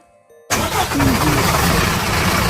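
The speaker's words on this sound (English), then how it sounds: "He tried to start the truck, hoping desperately that he could drive home just on fumes. And to his surprise, the engine started." After a quiet moment, a truck engine catches abruptly and roars to life, then keeps running loud and steady, close by, with no voices over it.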